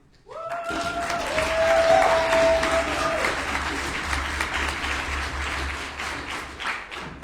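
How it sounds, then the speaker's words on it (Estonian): At a high school debate championship final, an audience breaks into sustained applause that rises quickly and holds, with a brief electronic tone and crowd murmur at the start. "suur aplaus neile!"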